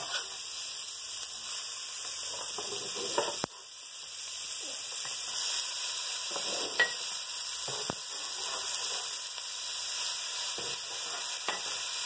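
Beef hits a pan with onions already cooking, a steady soft sizzle with faint clatter and a sharp knock partway through, fairly quiet and close.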